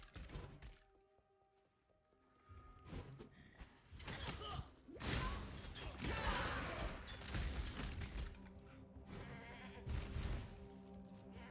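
Goats bleat in the Path of Exile video game, with scattered cries over dense in-game combat thuds and effects.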